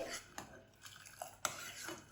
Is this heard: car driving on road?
no